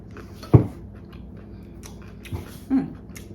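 Someone eats homemade keto meatballs, with one crisp bite and a few soft chewing sounds close to the mic over a quiet background.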